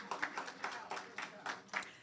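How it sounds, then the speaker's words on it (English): Short bursts of audience clapping at a STEAM lab launch event, several separate rounds of hand claps in an uneven rhythm, moderately faint and near. "Clap yourselves, man."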